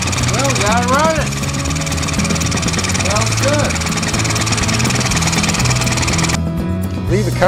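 A Honda Z50 minibike engine runs and idles close by with a steady, rapid, rattling putter, while a person talks over it.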